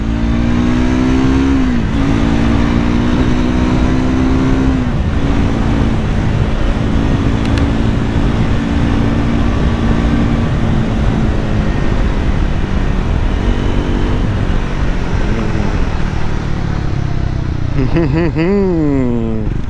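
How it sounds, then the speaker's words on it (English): A Triumph Scrambler 400 X motorcycle accelerates hard in third gear, its engine note rising and droning loud and close under strong wind rush, easing off near the end. "Let's pull over here and see from third gear."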